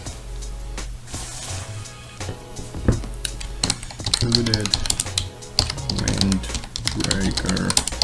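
Keyboard typing on a computer while an eBay clothing listing is written, bursts of quick clicks running throughout, close and fairly loud, with a person talking over much of it.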